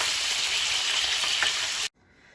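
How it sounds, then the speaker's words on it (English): Loud, dense sizzling of potatoes frying in hot oil, steady and crackling, then cutting off abruptly to near quiet. "So we're gonna fry the potatoes"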